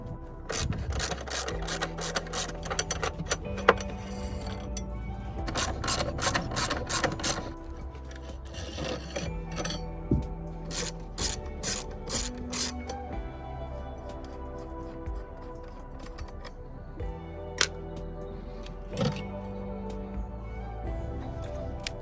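Clicking, ratcheting tool work on a Land Rover Discovery's battery bracket, with bursts of rapid mechanical ratchet clicks and scraping spread across the stretch, close and fairly loud, pauses between runs.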